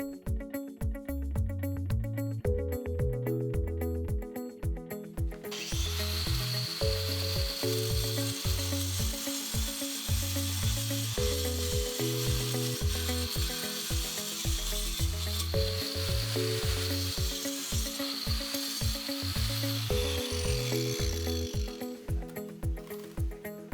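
An angle grinder cuts limestone stone veneer with a loud, steady, gritty hiss that starts a few seconds in and runs for about sixteen seconds before stopping, over continuous background music with a thumping beat.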